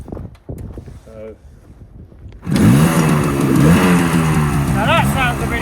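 Small two-stroke moped engine in a barn catches after a quiet start, then revs loudly and steadily with rising and falling pitch, close to the microphone; brief talk comes before it starts.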